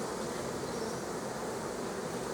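A steady, dense buzzing hum of many honey bees on a hive frame close by, continuous and unbroken with no voices.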